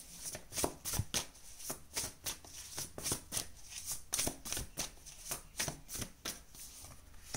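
Tarot cards being shuffled and drawn by hand, a quick run of close, crisp flicks and riffles repeating steadily without a break, fairly soft.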